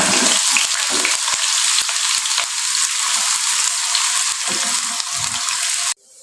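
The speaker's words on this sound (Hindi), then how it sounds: "यहाँ पर मैं ऐड कर रहा हूँ एक छोटा ऑनियन, बारीक काटा हुआ" Finely chopped onion fries in a pan, sizzling loudly and steadily with light stirring clicks, then cuts off sharply near the end.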